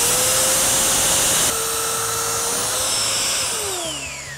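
Power sander grinding material from a piece of wood, a loud steady high whine throughout with a slight pitch shift partway and tapering toward the end, no talking.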